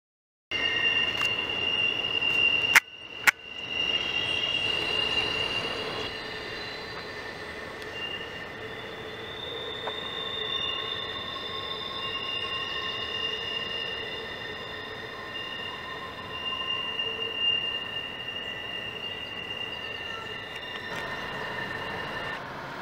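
A long freight train rolls steadily past on a curve with sustained squealing wheels and a rumbling, grinding drone, a couple of sharp clanks early on, then abrupt quiet.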